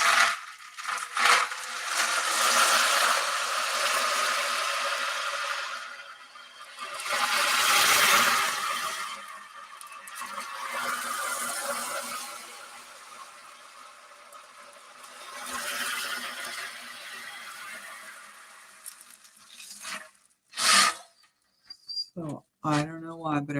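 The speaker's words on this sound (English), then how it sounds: "to sound like an ocean, which sounds like this" An ocean drum is rocked slowly so its rolling beads make surf-like waves, several long washes that swell and fade, close and soft, with a few sharp taps near the end.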